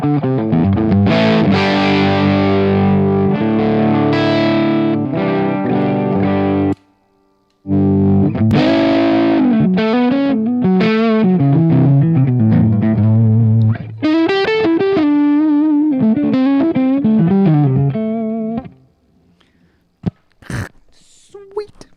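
Gibson SG and Les Paul electric guitars played live through heavy distortion and effects, loud chords and melodic runs with a brief gap, then a final burst and silence.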